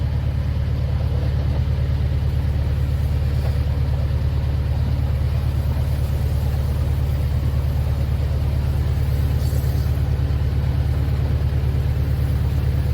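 Boat engine after a gearbox change, running at around 1,800 revs with a steady, loud low drone and throb that holds constant throughout, with no talking.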